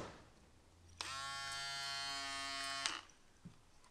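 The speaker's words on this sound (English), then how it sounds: "I'm going to take my foil shavers." An electric foil shaver buzzes with a bright, steady whine for about two seconds while trimming beard lines on the cheeks, close up in a quiet room, with faint clicks before and after.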